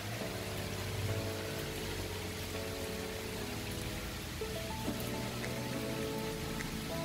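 Rain falls steadily outdoors in a Vietnamese garden around an old bonsai tree, a dense continuous patter on surfaces, with a faint low hum running beneath it and no talk.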